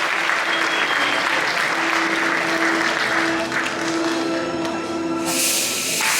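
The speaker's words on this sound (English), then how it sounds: "Audience members, a round of applause for your category winner." An audience at a natural bodybuilding show applauds the category winner, a loud, continuous roar of clapping with a steady tonal hum beneath it and scattered voices.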